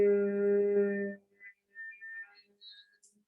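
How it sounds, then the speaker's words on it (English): Bhramari breathing: a steady closed-lip humming M tone, like a buzzing bee, held for just over a second, then near silence with a few faint small sounds. "Brahmarya is like the sound M."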